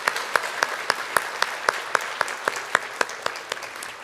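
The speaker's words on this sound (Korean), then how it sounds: "잠깐 일어서시면 박수로 환영하도록 하겠습니다." A church congregation claps to welcome newcomers during a Sunday worship service: fairly sparse, distinct hand claps at an uneven pace over a soft bed of scattered clapping, moderately near.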